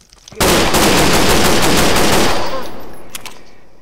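Rapid automatic gunfire in a Gmod game aimed at aliens: a loud, dense burst of shots that runs for a couple of seconds, then thins into a trailing tail of scattered reports.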